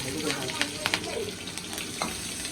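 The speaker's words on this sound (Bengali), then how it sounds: "এগুলো আমি ভাজে নিলাম ভালো ভালো করে" Spices and chillies frying in hot oil in a home kitchen pan, steady close sizzle with occasional sharp pops and crackles throughout.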